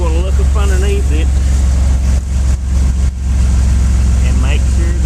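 A 2000 Dodge Ram engine idles steadily after starting, a continuous low rumble that stays loud and constant throughout, with someone talking over it.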